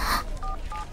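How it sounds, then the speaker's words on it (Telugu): Two short electronic keypad tones as a phone number is dialed, clear and close after a brief noisy burst, with no talk. "ముందు శ్రీకాంత్ ఫోన్ చేయి."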